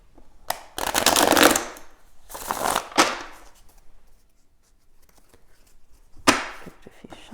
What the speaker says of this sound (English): Give it a few shuffles.